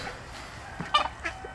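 A few short clucks from chickens close by, brief and irregular, with quiet background between calls.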